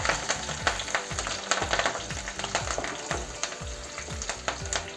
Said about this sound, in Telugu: కొంచెం కరివేపాకు వేస్తున్నాను